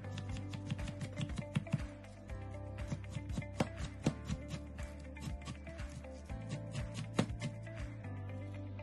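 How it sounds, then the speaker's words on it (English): A knife chops baby spinach on a board in a steady series of sharp taps, with soft background music playing throughout. "Now cut the spinach."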